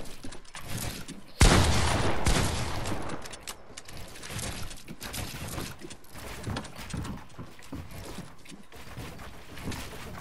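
Gunfire in the video game Fortnite, a dense burst of shots rattling out loudly near the start and then continuing as scattered, irregular bursts with game effects throughout.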